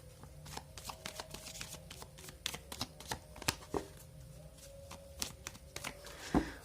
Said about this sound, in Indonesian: So, aku shuffle kartunya.